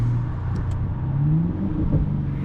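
A 2008 BMW 650i E64 with a 367 hp engine rolls slowly at about 20 km/h with the roof open, giving a steady low engine rumble and hum throughout with mild fluctuations and no talk.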